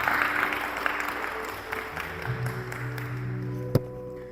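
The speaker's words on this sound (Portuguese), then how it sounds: "Aplauda, aplauda." A church congregation claps during a sermon, steady dense applause throughout, with a sustained organ or keyboard tone entering partway and one sharp clap near the end.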